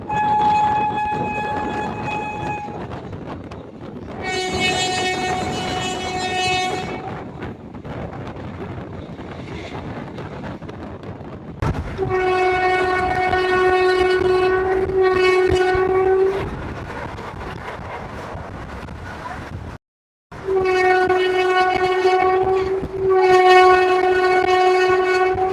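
The Mayiladuthurai–Sengottai Express runs with a steady rumble of wheels, its horn sounding in several long, loud blasts over the clatter.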